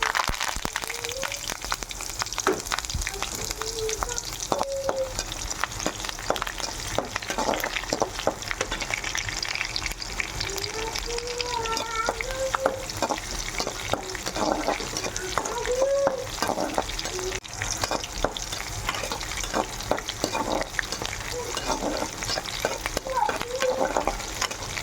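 Mustard seeds, cumin, urad dal and curry leaves fry in hot oil for a village-style okra curry, a dense continuous sizzle with rapid popping and crackling, close and loud, with faint speech underneath.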